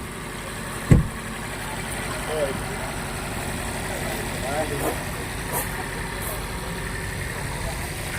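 Idling engine of a used car at a second-hand car market, a steady low rumble with a single knock near the start and faint background sounds, no clear talking.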